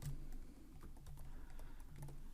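Steady run of keystrokes on a computer keyboard while code is typed, close and fairly quiet, with irregular clicks and taps throughout and no voices.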